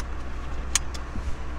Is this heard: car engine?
yes